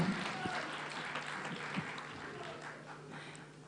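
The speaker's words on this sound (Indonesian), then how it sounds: "Boleh kita minta tepuk tangan untuk Pius Lustri Lanang." Audience applause at a book-launch discussion event in Indonesia, a steady wash of many hands clapping that holds for the whole stretch at moderate level with a faint background hum.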